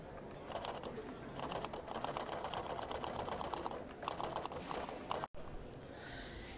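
A braille writing device types out a name at a blind-technology exhibition, giving rapid bursts of mechanical tapping in quick rhythmic runs, close and fairly loud, with a brief pause near the end and faint room noise.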